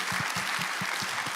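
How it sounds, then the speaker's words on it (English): A brief burst of audience clapping at a charity event, steady and close, with a few heavier low thumps from nearby hands. "Give a round of applause."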